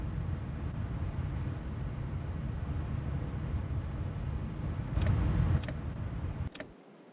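Septic truck engine in My Winter Car, a low rumbling idle with choke out and hand on the throttle, steady and close, with a few sharp clicks near the end before the engine noise suddenly drops away.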